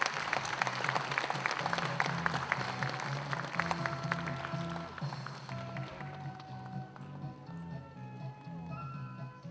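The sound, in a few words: audience applause at a Korean War memorial ceremony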